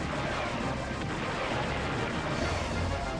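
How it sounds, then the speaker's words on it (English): Dense, continuous barrage of blasts and crashing impacts as an enemy fires projectiles in Star Fox Adventures, loud and unbroken throughout with no talk over it. "he's firing the same projectiles that those sentinels fired at you"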